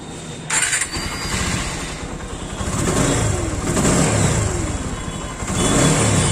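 A TVS Apache RTR motorcycle, its timing chain freshly adjusted, fires up at close range and settles into a steady, loud idle with occasional light revs, with no talking over it.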